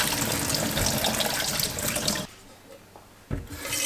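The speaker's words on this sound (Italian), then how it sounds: "mettiamo l'acqua nella pentola" Water pours steadily into a cooking pot for about two seconds, stops briefly, then starts splashing again; no talking.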